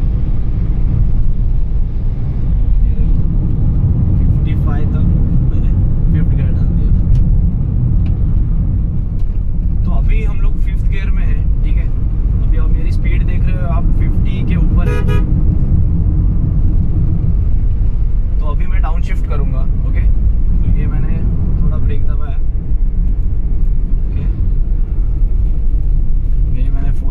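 A car engine rumbles steadily from inside the cabin as the car accelerates and shifts up through the gears on a road. Someone talks over the drone throughout.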